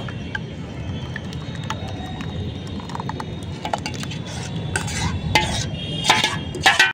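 Cake batter with cashews and raisins is stirred steadily in a bowl, a continuous scraping swish with light clinks from the utensil against the bowl near the end.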